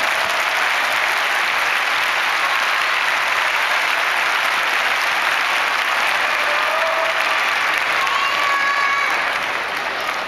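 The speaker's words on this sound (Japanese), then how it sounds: "皆様大きな拍手をお願いいたします" A packed arena audience applauds at a sumo wrestler's retirement ceremony at Ryogoku Kokugikan, Tokyo: dense, steady clapping from a large crowd that holds at an even, loud level throughout without fading.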